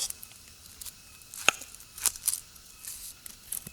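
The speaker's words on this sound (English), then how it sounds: "first I take an onion and I'm just going to peel it and really just cut it in half" An onion being peeled and cut in half on a board, heard as a few close, crisp papery tears and sharp knife taps spread unevenly over a quiet background, preparing a medicinal soup.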